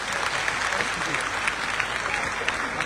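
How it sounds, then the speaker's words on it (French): An audience at the Miss Guinée 2025 pageant in Kipé applauds, a dense, steady wash of clapping from many hands throughout, fairly loud and sustained. "Est-ce que je peux entendre les applaudissements, s'il vous plaît?"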